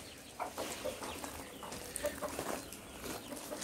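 Native Siruvidai country chickens cluck and murmur continuously nearby outdoors, a busy overlapping chorus of short clucks without any human voices.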